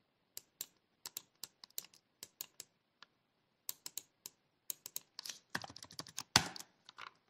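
Sparse, crisp key taps on a computer keyboard during data analysis work, close and quiet, falling singly and in short clusters before a faster flurry of keystrokes near the end.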